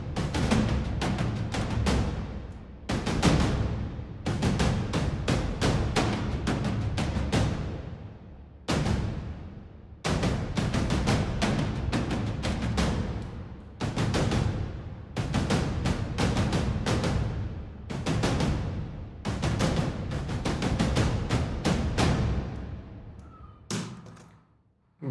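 Layered cinematic trailer percussion plays as an ensemble, loud, dense repeated drum hits in bursts and rolls with short gaps between phrases, building in complexity and ending abruptly.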